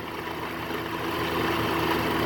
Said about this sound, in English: And right now it seems to be idling pretty good.